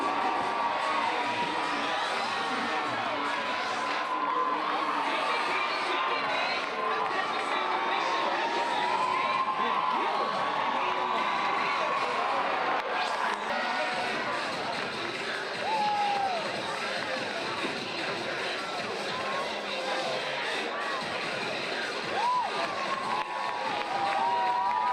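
Oakland cheer team performing at a high school sports event, with a large crowd cheering, shouting and whooping continuously throughout, a dense, lively roar of voices and yells that holds steady for the whole span.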